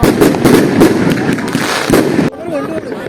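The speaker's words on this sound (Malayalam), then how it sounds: "ഇവിടുന്ന് പൊട്ടുന്നു, അവിടുന്ന് പൊട്ടുന്നു" Fireworks and firecrackers bursting on Bonfire Night in the UK, loud rapid bangs and crackling salvos coming one after another before cutting off abruptly, with people talking nearby.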